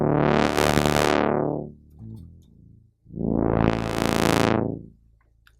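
Sequential Circuits Pro One analog synthesizer playing a buzzy, harmonically rich note through its filter, the tone sweeping from bright to dull, a brief quieter passage, then a second loud filtered note that closes down and fades.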